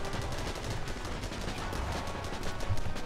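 Machine gun fire rattles in a WW1 tank video game with a Hotchkiss gun, a continuous rapid stream of dense shots under a steady rumble, loud and close throughout.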